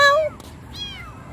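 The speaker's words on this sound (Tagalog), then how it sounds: "Meow!" A stray cat lets out a clear, close meow that slides downward, followed moments later by a second, fainter meow against a quiet background.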